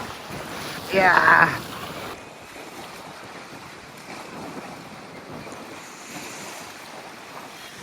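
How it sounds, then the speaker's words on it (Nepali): Ocean surf on a beach in Wakayama, Japan, with a steady wash of waves and strong wind noise buffeting the microphone, a loud gust early on and a brief spoken word. "छालमै पुग्यो त है"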